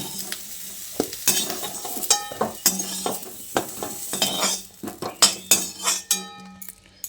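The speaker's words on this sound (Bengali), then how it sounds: "তারপর এই ভাজা এঁচোড়টাকে তুলে নিচ্ছি" Metal spoon clinks and scrapes against a pan in quick irregular strokes as fried young jackfruit is lifted out, over a light oil sizzle, close and fairly loud.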